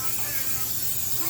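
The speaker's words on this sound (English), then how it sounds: "I'm gonna spray this" Cooking spray hisses onto unbaked pastries for apple fritters and bear claws, a steady close broadband spray lasting the whole moment with no pauses.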